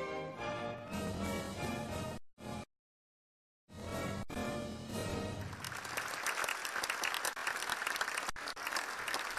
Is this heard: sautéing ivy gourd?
no